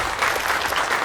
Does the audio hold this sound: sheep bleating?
no